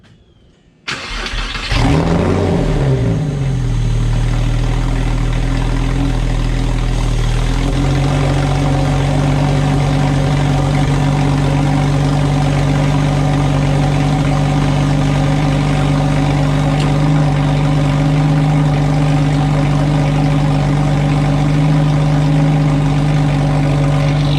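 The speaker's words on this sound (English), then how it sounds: "I'll fire it up so you guys can hear the exhaust" A pickup truck engine cranks and fires up, then settles into a loud, steady rumbling idle with a deep exhaust tone that continues throughout.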